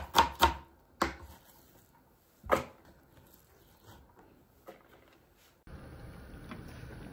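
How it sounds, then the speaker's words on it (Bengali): Onions chopped on a board in a home kitchen: a few sharp knife strikes, two quick ones at the start, then isolated hits spaced a second or more apart, close and fairly crisp, followed by a low steady background hiss. "পেঁয়াজ কাটা"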